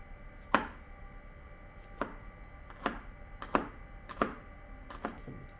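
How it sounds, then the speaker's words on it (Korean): A knife slices pine mushrooms on a cutting board, about eight crisp separate chops at an uneven pace, close and fairly faint against a quiet room. "송이버섯 썰어두고"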